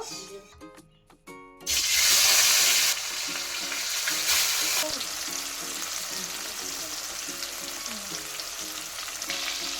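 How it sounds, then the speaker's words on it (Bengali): Fish pieces dropped into hot oil in a home kitchen burst into a loud, bright sizzle, which then settles into a steady, continuous frying hiss with faint stirring scrapes. "তেলটা গরম হয়ে গেছে এখন আমি মাছগুলো ভেজে নেব"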